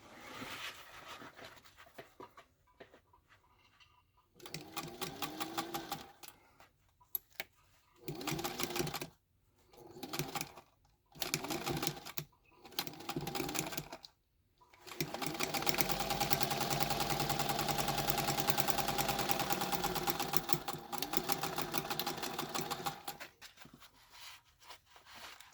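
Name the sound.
sewing machine stitching a zipper pocket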